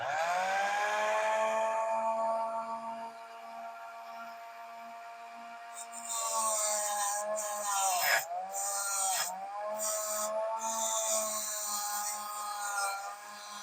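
A small hand saw with a little clamp cuts through material for a miniature sign, with a steady rasping stroke that slows around the middle, then returns harsher and more scratchy with brief catches, close up and alone.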